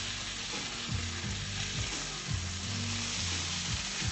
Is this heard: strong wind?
no